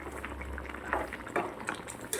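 Potato curry simmers and bubbles in a pan, a faint, soft burble of small pops with no talking.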